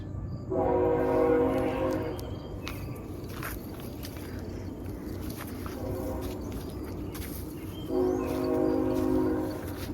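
A train rolls past near an Air Force base, its horn sounding in loud harmonic blasts at the start and again near the end, with rumbling rail noise carrying through between them.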